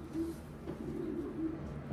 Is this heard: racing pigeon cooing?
yes